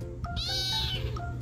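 A single drawn-out cat meow, close and clear, over a low steady background hum.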